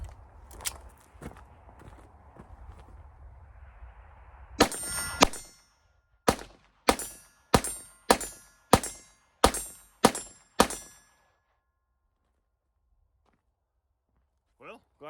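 A Walther PPK/S pistol in .22 LR fires a magazine of Stinger rounds: two quick shots, a pause, then a rapid string of about eight sharp cracks at even spacing, loud and close, followed by silence.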